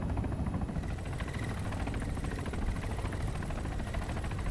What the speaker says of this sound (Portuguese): Ele foi com um helicóptero gigantesco